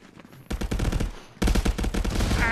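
Automatic gunfire in the VR shooter Contractors: two long, rapid bursts of loud, close shots, the second louder and sharper, with no talk.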